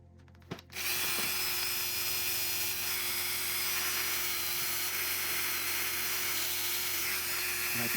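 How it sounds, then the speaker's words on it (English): Fine 600 grit sandpaper rubbing a small lock pin, a steady close scratchy hiss that starts after a brief bump and runs evenly without pause, with no voices. "I will be using some 600 grit sandpaper"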